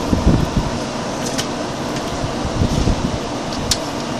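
A 1970s GE Slumberline 5,500 BTU window air conditioner runs with a loud, steady broadband whoosh of fan and airflow, with a low rumble and a few faint knocks.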